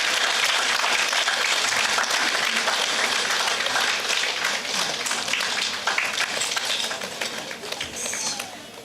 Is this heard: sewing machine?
no